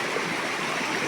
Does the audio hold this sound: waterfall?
yes